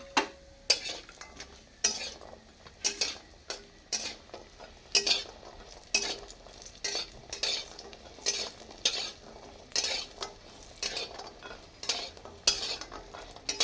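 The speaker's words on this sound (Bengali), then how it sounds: "আমি এখন বড়িগুলো ভেজে নিচ্ছি শতপক্ষে।" Lentil dumplings (bori) frying in a pan, a soft sizzle broken by frequent sharp scrapes and clinks of a spatula stirring against the metal, close and fairly quiet, no talking.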